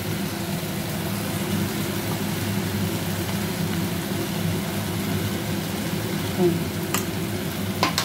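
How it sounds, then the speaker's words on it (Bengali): Spice masala for kabuli chana ghugni, with sugar and Kashmiri chilli powder, stirred and sautéed in a pan, giving a steady low sizzle and scraping that carries on evenly throughout, with a couple of sharp clinks near the end. "ব্যাস, এবার কষতে থাকছি, জাস্ট কষা হচ্ছে।"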